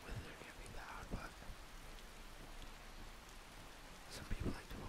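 Thunderstorm rain from a Skyrim weather mod patters as a dense, steady hiss with soft low rumbles, fairly faint and continuous, with a couple of brief louder knocks.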